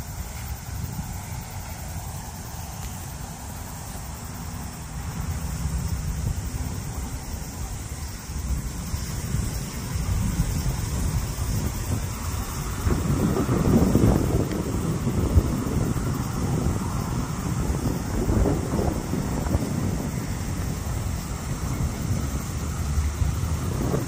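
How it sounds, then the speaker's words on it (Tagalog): Wind buffets the microphone steadily outdoors in New Zealand, with rumbling gusts that swell and subside over a long stretch and no talking. "Mahangin lang siya, guys."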